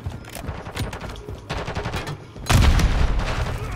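Gunfire in a shooter video game: rapid automatic bursts rattle throughout, with a louder, denser volley and heavier booms near the end, loud and close with no talking.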